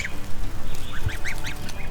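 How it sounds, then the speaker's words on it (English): Khaki Campbell ducks quack in a series of short, nasal calls close by, several overlapping bursts over a steady low outdoor background. "And they are Khaki Campbell ducks."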